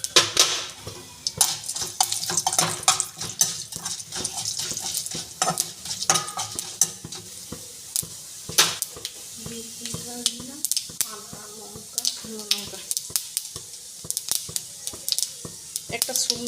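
Lentils (dal) tipped into a hot pan with cumin and mustard seeds, giving sizzling and frying under repeated scraping, clinking spoon strokes against the pan, close and busy, with a voice speaking briefly.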